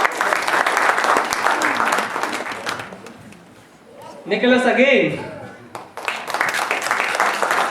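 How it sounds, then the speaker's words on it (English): Round of applause at a Holi 2016 gathering, dense clapping that fades briefly while someone speaks over the mic, then picks up again loudly. "a round of applause."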